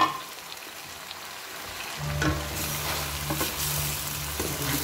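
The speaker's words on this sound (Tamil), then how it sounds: "பூசணிக்காய் போட்டுட்டு ஒரு ரெண்டு நிமிஷம் நல்லா வதக்கிடலாம்" White pumpkin and tomato sauté in a hot pan: after a quiet start, a steady loud sizzle kicks in and holds, with occasional scraping stirs and no voices.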